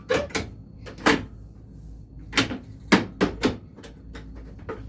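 A lock bar is fitted onto a Quicksilver pinball machine, giving a string of sharp metallic clacks and knocks at uneven intervals, close and fairly loud.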